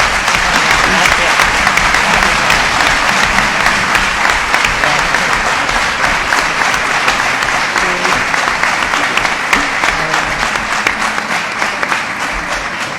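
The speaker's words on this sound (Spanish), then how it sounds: "Un aplauso para este niño." Steady, dense applause from an audience at a book presentation on the Second Republic, Civil War and repression, filling the room loudly and continuously with no pauses, nearby and sustained throughout.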